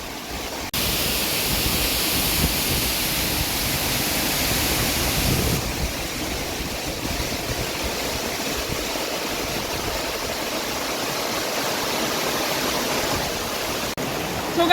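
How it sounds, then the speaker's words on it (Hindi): Chingrapagar Waterfall in Gariyaband roars steadily and loudly, a dense unbroken rush of falling water that fills the whole scene without pause. "झरने का आवाज़ जो है ना काफ़ी ज़्यादा आ रही है"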